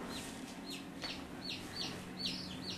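Young Coucou de Rennes chicks give repeated thin, high peeps over a steady background hum, several chirps following one another at a moderate distance.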